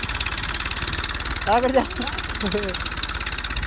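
Tractor engine straining to pull a heavily loaded manure trolley, the front wheel lifting off the ground, a steady mid-pitched idle-like rumble throughout with a brief voice calling out over it.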